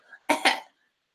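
A voice imitates a dying man on his deathbed coughing and spluttering: one faint hack followed by two loud, harsh, close coughs, then silence.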